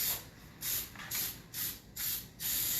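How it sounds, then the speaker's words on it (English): Cooking spray misted onto a sheet of heavy-duty tin foil lining a baking pan for key lime bars: five short hissing bursts in an even rhythm, close and soft, with brief pauses between. "And I am going to spray the tin foil."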